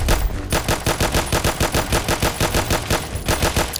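A weapon fires in Minecraft combined with Doom, loud rapid automatic bursts in a fast even rhythm that runs continuously with no pauses.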